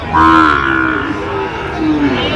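Sahiwal bull calves at a cattle market in Chuadanga give loud, drawn-out moos, one long call followed by a second lower one, close by with crowd murmur beneath.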